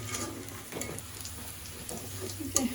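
Onion, chili and garlic fry in a pan, giving a faint, steady sizzle with a few soft clinks of stirring.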